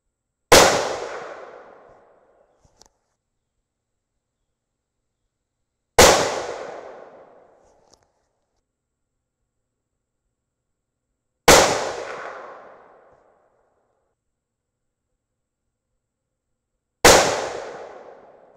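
Four rifle gunshots fired with a Harrell's tuner brake and a LimbSaver fitted, each a loud sharp crack with a decaying ring, spaced about five seconds apart with quiet between.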